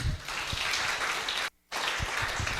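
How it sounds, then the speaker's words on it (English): Warm applause from an audience at a formal introduction, a dense steady patter of many hands clapping that breaks off for a brief moment of silence, then resumes just as full. "with a warm round of applause"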